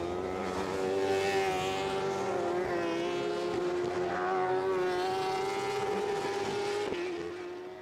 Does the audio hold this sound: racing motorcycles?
yes